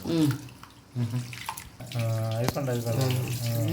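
Running tap water splashes steadily over lentils being washed while a person talks over it, the flow continuing in the background.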